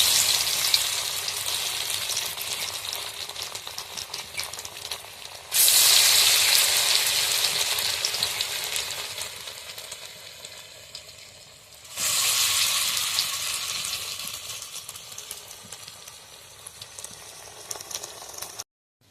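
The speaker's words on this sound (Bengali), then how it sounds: "পকোড়াগুলো আমাদের ভাজা প্রায় শেষই হয়ে গেছে, আর একটুকুনি বাকি আছে।" Potato and onion pakoras fry in hot oil with a loud, continuous crackling sizzle that swells sharply twice as fresh batches go in and then eases off, with no talking over it.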